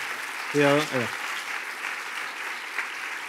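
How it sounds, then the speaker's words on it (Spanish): Audience applause at a Spanish-language science talk, continuous clapping from a room of listeners, briefly overlaid by a short spoken word early on. "otro aplauso para Andy."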